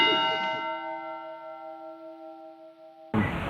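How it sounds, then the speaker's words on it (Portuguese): A single loud strike on a church bell in a town in Minas Gerais rings out and hums with a long, slowly fading tone for about three seconds before another hit cuts in. "Toco o sino todos os dias"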